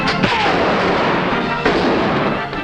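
A gunshot rings out in a Technicolor western film, a sharp loud crack at the start followed by a reverberant rolling echo, with a second fainter report later amid the soundtrack's background noise.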